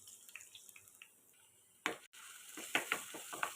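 Garlic hits hot oil in a pan on a stove and sizzles softly, with short scraping and stirring bursts and a louder crackle partway through.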